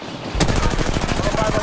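Rapid automatic gunfire in Apex Legends, a sudden loud burst that continues as a dense, steady stream of close shots, with no talk.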